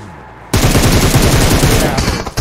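Loud, close automatic gunfire in a mobile shooter game played on an emulator, bursting in suddenly after a quiet start and continuing as a dense rapid stream of shots.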